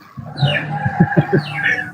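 Chicken clucking close by in a short run of rhythmic pulses, over a faint steady background hum, with no talking.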